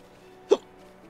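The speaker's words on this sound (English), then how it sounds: "Got a little bit of the hiccups." A single short hiccup, close and fairly loud, against a quiet background, with no talk.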